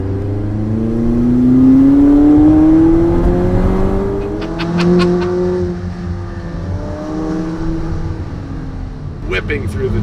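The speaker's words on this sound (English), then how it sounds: "You can put the window down, the one behind me, and hear the engine." McLaren 570S Spider engine droning and rising in pitch as the open-top car accelerates through a turn with a window down, loud and steady, with brief tire or wind noise near the end.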